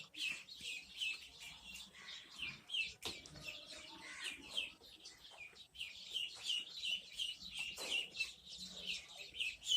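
Soft, high-pitched chirping and peeping from a group of ducklings on a duck farm in Assam, continuous and overlapping, with a few faint clucks and rustles nearby.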